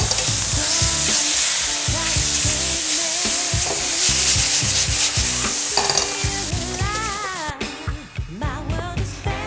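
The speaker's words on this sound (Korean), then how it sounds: "2스푼 정도 넣어주시면서 고기를 볶아주세요." Pork stir-fried in a pan with a couple of spoonfuls of potato cooking water, giving a loud, steady sizzle and frying hiss with scraping stirs throughout and a burst of bubbling spatter near the end.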